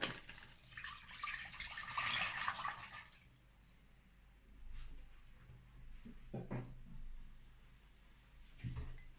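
Milk pours into a cooking pot in a steady splashing stream for about two seconds, then stops, followed by faint clinks and soft knocks of kitchen handling; quiet and close.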